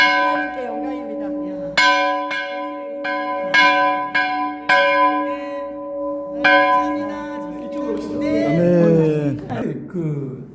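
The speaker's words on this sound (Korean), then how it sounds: "오늘 이 종소리를 들으니 우리 동네에 교회가 있어요" A small village church bell in a remote mountain area of Gangwon Province rings out in several clear, resonant strikes, each tone lingering and decaying before the next, followed by a person speaking over the fading ring.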